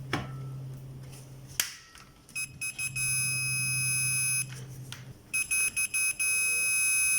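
Multimeter continuity beeper sounding while testing the power switch of an inverter IGBT welding machine: steady high-pitched electronic tones, a sustained stretch and then several short repeated bursts, close and clear over a low hum.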